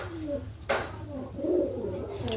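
Pigeons give a few soft, low coos nearby, broken by a single sharp knock partway through.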